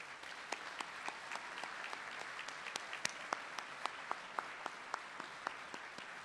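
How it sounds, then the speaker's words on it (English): A commencement audience at a career and technical college applauds its faculty and staff, producing continuous, fairly quiet clapping with sharper individual claps standing out. "would you join me in a round of applause in acknowledging them"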